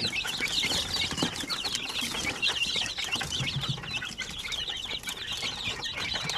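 Basilan and Zamboanga native chicken chicks cheep in a steady, overlapping chorus of high, rapid peeps, with occasional wing flutters and scuffling close by.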